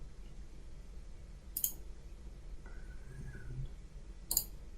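Two sharp, isolated computer mouse clicks a few seconds apart, close and quiet, over a faint room hum.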